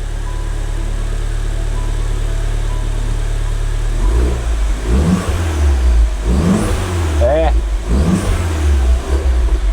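A Fiat Punto Abarth that had been in an accident runs just after starting, with a steady low hum that swells into several throaty revs as the engine settles. Voices talk over it.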